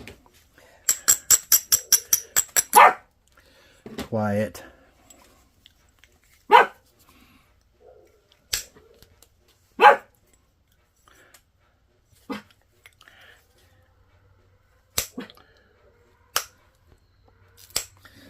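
A small dog barks in a quick burst of about eight sharp yips, followed by a few scattered single barks spaced far apart across a quiet outdoor stretch, with a brief spoken word in between.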